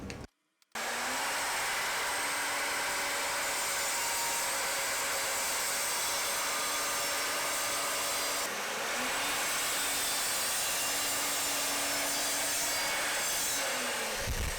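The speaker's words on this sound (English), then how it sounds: "the rest of the cuts will be done on my miter saw" A miter saw cuts HDPE sheet for resin-casting moulds: after a brief silence, a long, steady high whine runs unbroken, dips for a moment near the middle, then continues before cutting off.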